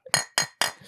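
Three sharp taps on a one-liter bourbon bottle, an old Charter 101 bottle, each a bright glassy clink with a short ringing tail, spaced evenly and close to the microphone.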